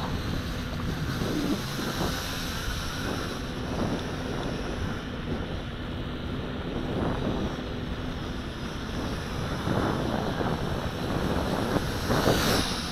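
A JJRC H8D quadcopter drone makes a high-speed pass outdoors, a steady whirring buzz mixed with heavy wind rush that holds for several seconds and swells slightly near the end, with no voices.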